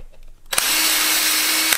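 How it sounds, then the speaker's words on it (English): A power drill bores a 1/4-inch hole through a 3D-printed plastic part, a steady loud whine that starts abruptly, holds for about a second, then cuts off, alone without talk. "So what I do first is I drill out all my 1/4-inch holes"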